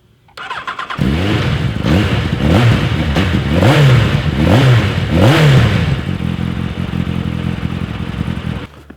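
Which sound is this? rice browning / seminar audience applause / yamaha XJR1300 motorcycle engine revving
yamaha XJR1300 motorcycle engine revving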